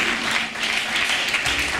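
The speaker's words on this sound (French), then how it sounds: "je vous demande d'applaudir" An audience at a foundation gathering applauds on request, a continuous, even patter of many hands clapping for a short stretch, fairly steady in level and without speech.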